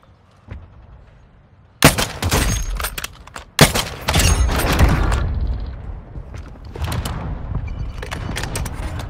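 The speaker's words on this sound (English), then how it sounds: "Friendly mortar strike inbound." Mortar strike explosions in the mobile shooter game Warzone Mobile: loud, dense, heavy blasts that start abruptly and are followed by a sustained roar of rumbling impacts and crackling debris, with no one talking.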